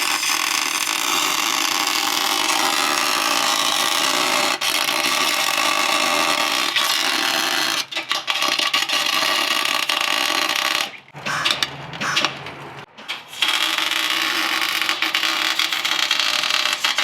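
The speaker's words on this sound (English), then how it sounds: "She's getting welded up, burning the crap out of my neck." Continuous buzzing, crackling arc welding on a Chevy Tahoe rear differential, close and loud, with brief pauses where the arc cuts out before it resumes.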